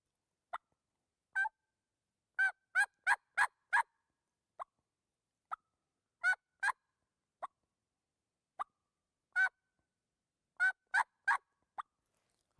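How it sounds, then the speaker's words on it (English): Plain turkey yelps, the calm call of a contented hen wandering through woods, come as short, sharp notes in scattered groups of one to four with quiet gaps between, moderately faint and with no talking. "Start with a plain yelp, which is just a turkey wandering through the woods."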